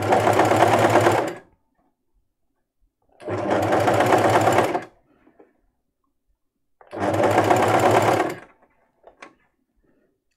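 A domestic sewing machine zigzag-stitches elastic in three loud, steady bursts of about a second and a half each, separated by quiet pauses.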